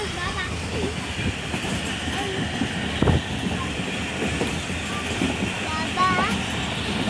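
Passenger train ride between Mirpur Mathelo, Sadiqabad and Rahim Yar Khan, with steady rumbling wheels and a few rail clicks inside the carriage while people talk over the noise.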